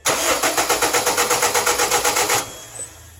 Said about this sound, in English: now the engine should crank over but not start